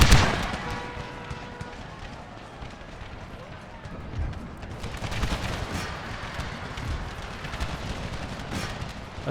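Cannon and musket volleys in Empire: Total War with the Brothers vs. Brothers mod: a strong opening blast, then scattered cracks and booms rolling on over a battlefield din.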